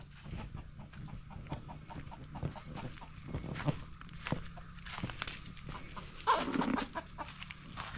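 Chickens cluck softly around a farmyard in short, scattered calls, faint and somewhat distant, with footsteps and light rustling throughout.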